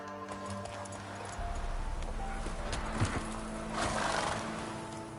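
Roach, a horse in The Witcher 3, whinnies over a steady clip-clop of hooves, the neigh rising clearly above a constant rumbling game backdrop with no talk.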